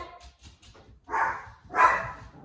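A household dog barks twice, two loud close woofs about half a second apart, following a stretch of quieter indoor sounds.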